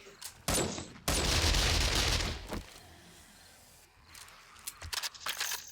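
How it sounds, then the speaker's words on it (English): Gunfire in the survival video game 7 Days to Die comes as a few sharp single shots, then a loud sustained burst, then scattered shots later, with a little background talking. "I forgot my gun made noise because I got a kill streak"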